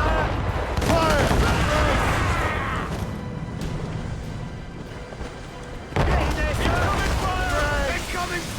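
Naval cannon fire in Assassin's Creed Rogue, loud booming volleys over a churning sea battle, with shouted voices throughout and a fresh burst of blasts near the end.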